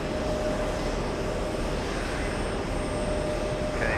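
A Delta heavy jet roars steadily on its takeoff roll at JFK airport, a broad, loud and continuous engine rumble with a faint whine on top.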